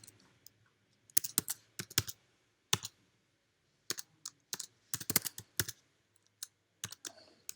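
Fingers typing code on a computer keyboard, crisp clacking keystrokes in uneven bursts and short runs, with brief quiet gaps between them, close and clear.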